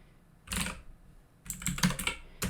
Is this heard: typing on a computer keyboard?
yes